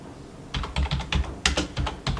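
Rapid bursts of typing on a computer keyboard while working in an Excel spreadsheet, with close, crisp clattering keystrokes in quick clusters and short pauses, and no one talking.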